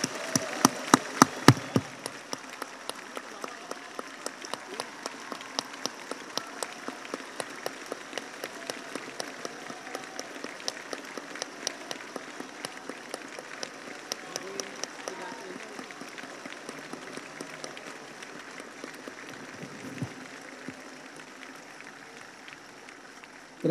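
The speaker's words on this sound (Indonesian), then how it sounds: "memberikan tepuk tangan yang meriah sekali lagi" Audience at Indonesia's presidential inauguration for Jokowi and Jusuf Kalla claps in long sustained applause from a large hall, steady and moderately distant throughout.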